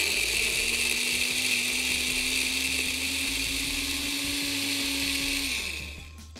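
Blender whirring as it purees a cooled white vegetable soup until smooth, a steady close motor drone with a rising pitch that cuts off near the end, no talking.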